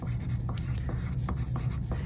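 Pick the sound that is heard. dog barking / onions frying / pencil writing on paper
pencil writing on paper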